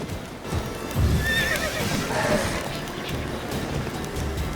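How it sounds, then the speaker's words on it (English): A horse neighs with a rising whinny over the thud of stamping hooves in The Witcher 3: Wild Hunt, amid a dense, noisy action-game background. "Oh, my horse is kicking."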